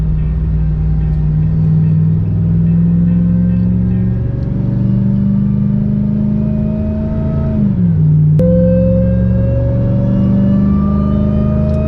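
A Dodge RAM 1500 pickup with a swapped Hellcat engine, towing a Dodge Dakota, rumbles loudly as it pulls away, its deep engine note rising steadily through the gears with a brief dip at a shift midway.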